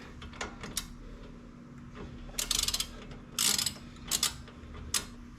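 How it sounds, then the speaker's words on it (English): Socket ratchet tightening brake caliper bolts on a 2015 Scion tC during a brake rotor replacement, heard as several short bursts of rapid clicking with brief pauses between them, close and fairly loud. "grab the socket, and we just tighten them up"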